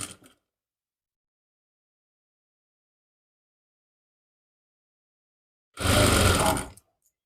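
A sewing machine stitching a suit seam runs in one short, steady burst of about a second, after a long stretch of near silence.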